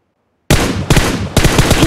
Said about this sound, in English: Tap right fire button to shoot.